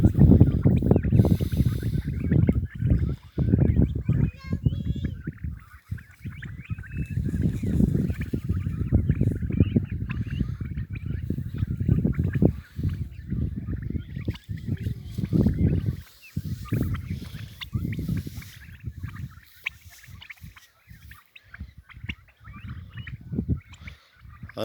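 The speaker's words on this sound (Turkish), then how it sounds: "Hindilerin ilk doğayla buluşması." Turkeys about 65 days old, just released outdoors, gobble in loud, rolling bursts that come close and repeat throughout, with some chattering from the flock and no talking.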